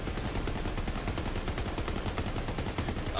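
Gatling gun firing nonstop in Borderlands 3, a dense, loud, rapid stream of shots hammering without a break for the whole stretch.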